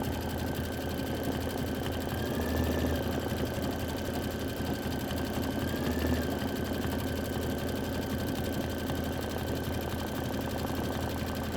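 An embroidery sewing machine runs a long stitch out, a steady fast mechanical whirr and rattle with an even, unbroken rhythm, close and continuous with no talking.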